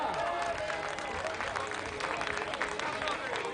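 Crowd applause rings out for a rider crossing the finish line at the 2012 Vuelta a Castilla y León cycling race, steady and dense throughout, with a commentator's voice talking over the clapping.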